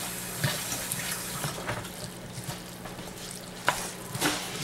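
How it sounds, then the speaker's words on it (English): Zucchini noodles with Parmesan stirred in a hot pan, soft sizzling under scattered scraping and clinking of a utensil, close and fairly quiet. "Give it a good mix."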